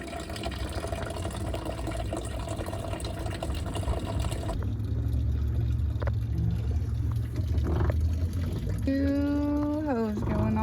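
Coolant draining out of the bottom end of a broken-down converted school bus engine, a steady pouring, gurgling flow with a brief squeaky, wavering tone near the end.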